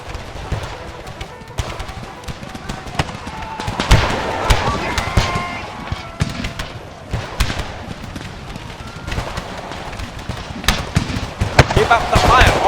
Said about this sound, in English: Really close artillery support here.